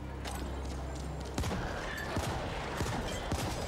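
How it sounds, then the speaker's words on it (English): Scattered gunshots from a player's equipped gun in The Ascent, several sharp cracks over a steady background hum of game ambience, moderately loud and close. "Use the right trigger to fire your equipped gun."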